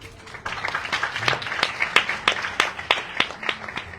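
Audience applause at an evening Bhagavata-saptaha gathering builds quickly into loud, rhythmic clapping with distinct claps standing out, sustained without speech.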